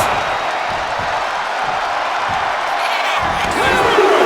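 A wrestling arena crowd roars steadily throughout at a televised show, a dense continuous cheer that swells slightly louder near the end.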